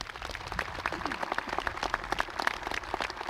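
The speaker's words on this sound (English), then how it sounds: "You may now give them a round of applause." Applause at a high school graduation ceremony: a crowd claps steadily throughout, a dense, moderately loud patter of many hands with no talk over it.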